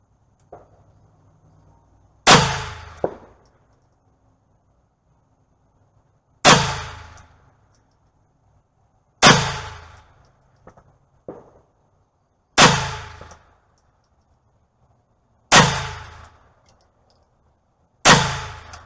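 A GSG STG 44 .22 LR rifle fires six single shots at steel targets, each a sharp crack with a ringing metallic clang, spaced a few seconds apart with quiet between them.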